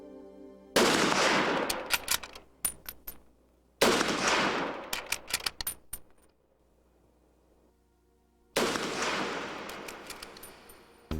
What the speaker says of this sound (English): Let's see what the view through the scope looks like if 3 shots are fired within 8 seconds.